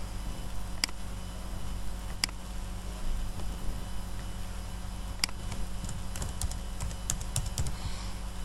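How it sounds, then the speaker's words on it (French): Keys clatter on a computer keyboard as a username is typed, a short burst of quick taps followed by a few isolated keystrokes, heard up close over a low steady hum. "Je tape le nom de l'utilisateur, Albert, validé."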